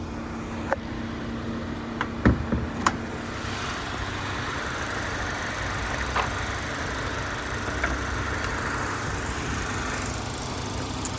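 A 2021 Mazda 3 G25 Astina idles with its bonnet open, a low, steady engine hum running quietly and evenly throughout, with a few faint clicks and knocks nearby.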